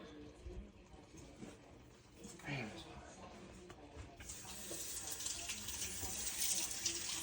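Tap water runs into a kitchen sink while food is rinsed for an Easter dinner, starting soft and becoming a louder steady rush in the second half, with people talking nearby.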